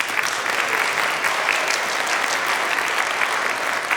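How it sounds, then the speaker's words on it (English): A concert audience gives a sustained round of applause, dense and even clapping from a large crowd that holds steady at full strength with no talk over it. "So give them another round of applause too."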